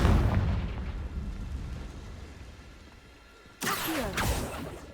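Rumbling blast residue fades out before a sudden loud burst from the Confringo blasting spell in the Hogwarts Legacy video game erupts near the end, followed by crackling debris and echoing impact.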